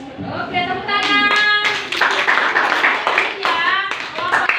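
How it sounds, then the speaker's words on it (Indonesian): A classroom of students claps together in sustained applause, with excited voices calling out over the clapping. "Oke, tepuk tangan."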